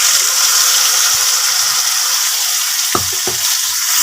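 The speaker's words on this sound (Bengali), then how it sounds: "আলু লাল লাল করে ভাজা হয়ে গেছে" Potatoes fry in hot oil in a pan, a loud steady sizzle throughout, interrupted near the end by a couple of brief knocks from a utensil.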